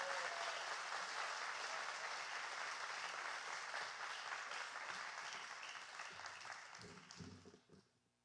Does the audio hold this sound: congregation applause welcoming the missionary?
yes